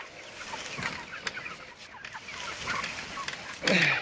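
Chickens on an organic farm cluck and squawk close by in short irregular bursts, with a louder flurry of activity near the end.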